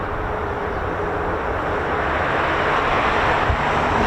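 A C-17 heavy airlift military jet flies past with a steady, moderately loud broadband engine rumble that stays even and distant-to-mid range, alone without talk.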